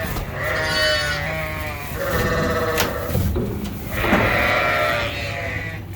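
Ewes and lambs on a sheep farm bleat loudly and close by, with several overlapping calls in succession over a constant pen background.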